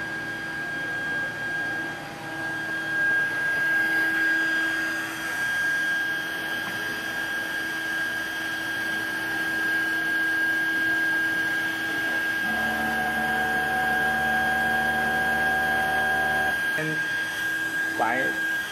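An MT-FP4060-UV digital UV flatbed printer running a print job, giving a continuous mechanical hum with steady tonal whine, and a louder motorized passage partway through, close and unbroken.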